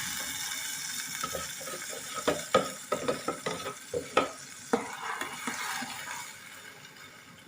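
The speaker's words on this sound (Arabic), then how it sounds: "ننزل بقى على الطماطم، كنت مفرزاها في الفريزر وضرباها." Frozen blended tomatoes go into a hot pan and are stirred, giving a wet sizzle with a run of sharp scraping clacks from a spoon against the pan, close by and with no talk.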